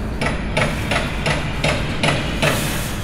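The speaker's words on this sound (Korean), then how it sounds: "근데 저희 공사하고 있어가지고 시끄러울 것 같긴 한데" Construction hammering outside a seventh-floor Tokyo city-view hotel room: about six evenly spaced, sharp metallic blows roughly every 0.4 seconds over a steady background hum, moderately close.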